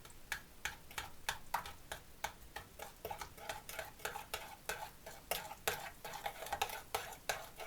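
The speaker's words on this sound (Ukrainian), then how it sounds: "цукор, сіль, яйця і ретельно перемішую" Sugar, salt, eggs and soda whisked together in a bowl for pancake batter, a quiet, quick, regular tapping and clicking of the utensil against the bowl, evenly paced throughout.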